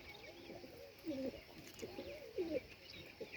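A pigeon coos nearby in soft, low, rounded calls that come in short repeated phrases over a quiet background hiss.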